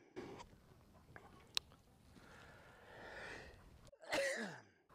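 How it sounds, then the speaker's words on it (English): A person sneezes once, sharp and close, near the end after a few seconds of quiet rustling and faint breathing. "I've been sneezing for almost 2 weeks now."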